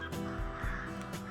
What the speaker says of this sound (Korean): 까마귀 우는 소리가 사람 소리보다 더 크고 한적합니다.